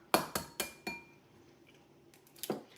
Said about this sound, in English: she's going to break them in the bowl and then add them gradually to the mixture